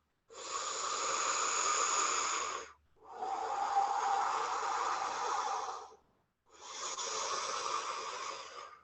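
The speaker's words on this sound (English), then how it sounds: "We're just going to sink into that O mouth breathing." Long, airy breaths drawn through an O-shaped mouth during kundalini yoga: three sustained rushing breaths with short silent pauses between them, close and clear.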